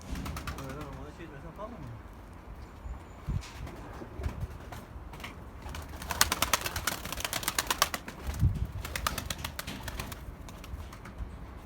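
Tumbler pigeons flutter and coo nearby as they are released, with bursts of wing flapping in the middle, while people talk quietly in the background.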